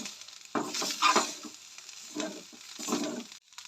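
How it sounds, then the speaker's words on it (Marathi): A homemade curry mixture with turmeric is sautéed in a pan, with soft sizzling and several bursts of scraping stirring strokes, close and without any talk. "सो सगळे परत एकदा सगळे परतून घेवंक जाय"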